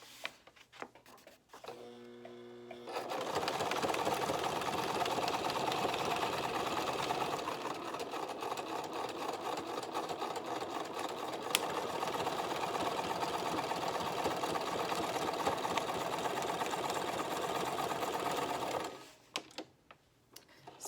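A sewing machine stitches papers onto a vintage pattern junk journal, running in a steady fast mechanical rattle for about fifteen seconds after a few short starting bursts, then stopping abruptly; no one speaks.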